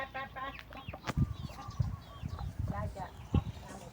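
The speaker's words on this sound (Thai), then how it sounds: "นี่ไก่ก็มาหาเนาะ" Farm chickens cluck and cackle nearby in short repeated calls, with a person talking over them throughout.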